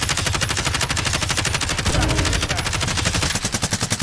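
Rapid automatic gunshots in Warzone hammer continuously for several seconds, dense and loud, tapering into spaced bursts near the end.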